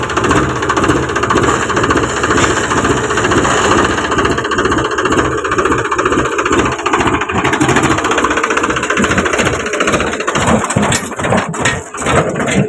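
A farm tractor engine runs steadily and loud, with rhythmic low thumping and a grinding, rattling load throughout, the pulses becoming sharper near the end; no one speaks.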